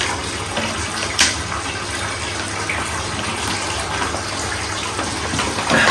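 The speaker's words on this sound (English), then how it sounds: "I'm gonna drink some water, try me 200." Water pours steadily from a tap or into a container for drinking, a continuous rushing gush lasting several seconds, close and fairly loud, with a brief knock near the start.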